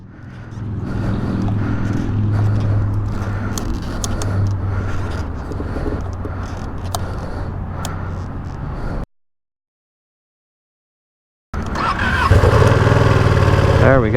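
A 2020 Ducati Panigale V2 motorcycle engine runs loud and close with a rough, throbbing rumble, falls silent briefly, then fires up again with a burst of revving.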